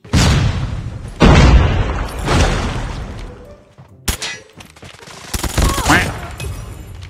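A MAC-10 submachine gun fires in Call of Duty Mobile: loud, rapid bursts of automatic fire come in several strong waves, with sharp metallic clangs and booms in the later part.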